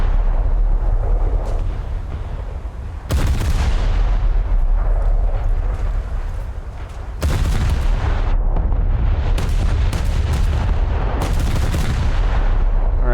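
Heavy naval guns boom in a naval combat video game, several loud blasts at irregular intervals with long rumbling decays and sustained battle noise between them, no voices.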